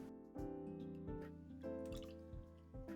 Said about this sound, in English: Okay, I remove and transfer them to the cold water.